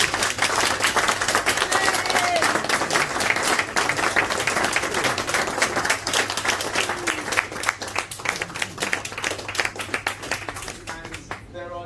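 An audience at a book relaunch breaks into a full round of applause, dense rapid clapping from a roomful of people that carries on strongly and then thins slightly near the end.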